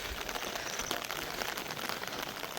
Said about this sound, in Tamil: அஞ்சு அஞ்சரை அப்படி ஸ்டார்ட் ஆன மழை இப்போ சரியான நேரம் எட்டரை ஆகுது தொடர்ந்து அப்படியே பெஞ்சு கொண்டே இருக்குது